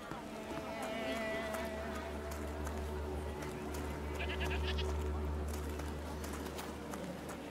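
Small goats bleat in The Thaumaturge, a few short calls rising over a steady low ambient hum and clopping game background.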